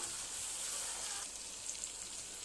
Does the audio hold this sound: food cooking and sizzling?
yes